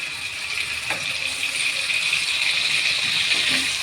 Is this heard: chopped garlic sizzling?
yes